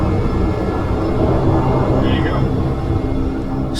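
Turboprop engine on a float plane running up at startup, a loud steady roar with a rising whine, heard from inside the aircraft with a voice talking over it.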